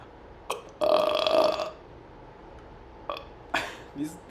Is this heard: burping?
yes